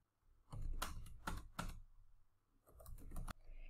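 Password being typed on a computer keyboard: three quick bursts of key clicks, a pause, then another flurry of taps, close and fairly quiet, with no talking.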